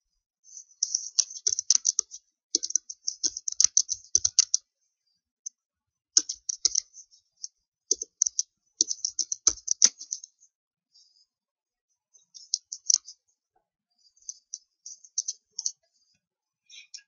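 Java code being typed on a computer keyboard, close crisp clicky keystrokes in quick bursts separated by short pauses, with no talking.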